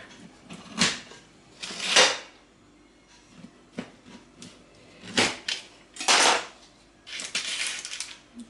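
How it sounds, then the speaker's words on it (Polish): A knife cuts through baked Złota Rosa apple cake with scraping and clinking against a plate, heard as several short separate bursts set apart by quiet pauses, close up and with nobody talking. "jabłecznik złota rosa jest upieczony kroimy kawałeczek"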